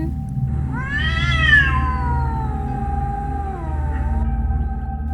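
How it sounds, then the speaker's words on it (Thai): A cat lets out one long, drawn-out meow that rises and then slowly falls away, clear and close over a steady low rumble. "เสียงแมวร้องลากยาว เราได้ยินกันทุกคน"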